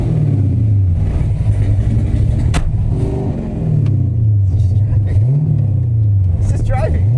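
A Mercedes fitted with an LS V8 breathing through three Predator lawn mower carburetors drives close by, its engine revving up and down in repeated swells, with people talking over the rumble.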